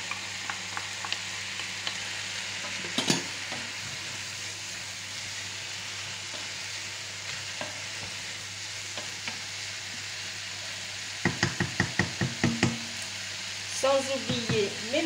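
Chopped leeks tipped into a hot frying pan while cooking a venison leg in sauce, giving a steady sizzle with a few sharp clatters and stirring scrapes, loudest near the end.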